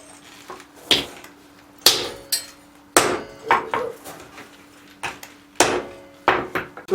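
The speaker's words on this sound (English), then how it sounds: "Power hammer seems to work fairly well." Power hammer forging orishigane metal at a forge, sharp metallic impacts landing in uneven clusters of two or three blows with short pauses, close and fairly loud over a faint steady hum.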